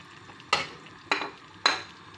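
Fried potatoes are stirred into a thick biryani masala gravy, giving three distinct scraping, sloshing stirs at even intervals over a quiet simmer.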